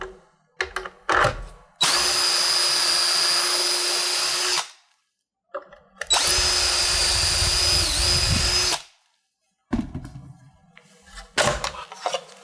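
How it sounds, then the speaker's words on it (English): A power drill runs in two long, loud bursts of a few seconds each, with brief handling clatter before and after each one. "all I've got to do is drill my 2 holes."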